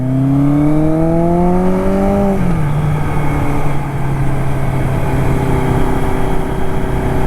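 The engine of a 1981 Suzuki GS850 cafe racer motorcycle roars steadily and loudly up close, its pitch climbing through a rev, then dropping and settling into a sustained drone. No voices are heard.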